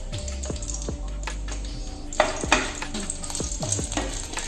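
Seven red chilies frying in oil for gongura pachadi, a soft continuous sizzle punctuated by sharp knocks and scrapes of a spoon stirring in the pan, with a couple of louder clatters midway.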